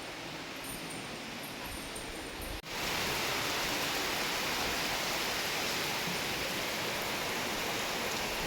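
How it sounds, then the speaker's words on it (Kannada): Rain pours as a dense, steady hiss that jumps abruptly louder partway through and then holds constant, with no voices. "ಆಗಲೇ ಮಳೆ ಬಂತು"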